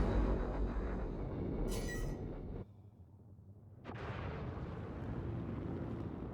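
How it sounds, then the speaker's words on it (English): Missiles streak from a ship toward a target in Star Citizen space combat, a dense roaring rush with a sharp hiss, a sudden drop to near silence, then another loud broadband roar as the launch or impact resumes. "Let's pop a few missiles."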